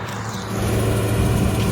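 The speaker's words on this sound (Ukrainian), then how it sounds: "Машина поїхала на ваги." A loaded farm vehicle carrying a soybean harvest pulls onto the weighbridge scales, its engine rumbling steadily and rising slightly as it moves off, heard close with no talk.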